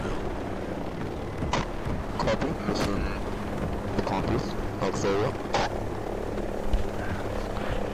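Helicopter rotor drone from Ghost Recon Breakpoint, a steady wash under wind noise and gunfire bursts, with voices talking over it.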